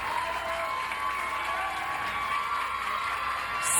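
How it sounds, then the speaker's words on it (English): Fans at a Little League softball elimination game between New Jersey and Virginia clap and cheer in a continuous crowd wash, moderately distant. "you can hear the fans cheering loudly for her"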